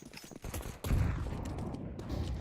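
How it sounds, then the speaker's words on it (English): A flashbang grenade in Counter-Strike 2 goes off with a sudden loud burst after a few light clicks and thuds, followed by a lingering, muffled ringing wash of noise. "Flashbang"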